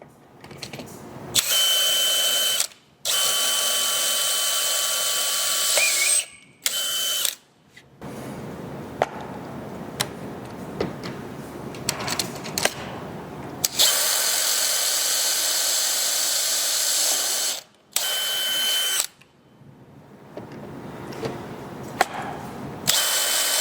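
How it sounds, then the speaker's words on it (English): A power drill whines in several sustained bursts, starting and stopping, with quieter grinding and clicks between runs as it bores through a metal tube extrusion while assembling a segmented overfill prevention valve. "As soon as you feel the drill tip pass through the extrusion, the tube extrusion, make sure to back off."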